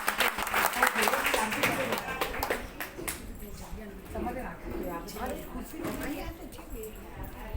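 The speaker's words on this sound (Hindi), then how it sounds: "हम सभी कलाकारों के लिए पहले से ही जोरदार तालियां दे देते हैं उनका हौसला बढ़ाने के लिए।" An audience claps for senior citizens' dancers at a community dance-drama performance; loud, dense clapping at the start fades into softer scattered claps with voices talking over it.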